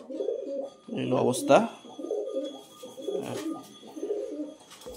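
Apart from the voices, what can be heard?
weak, emaciated pigeon cooing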